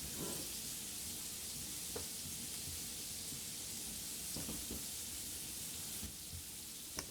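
Onions frying in melted butter in a pan for gluten-free Jamaican patties, a steady close sizzle with soft crackle and a few light clicks throughout, no talking.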